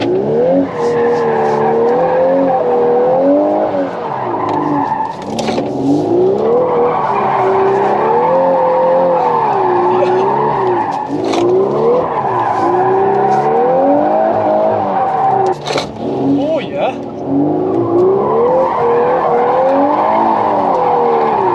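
A Volkswagen Golf R drifts with sustained, wavering tire squeal over a steady engine note, loud and near, the squeal rising and falling in pitch continuously throughout.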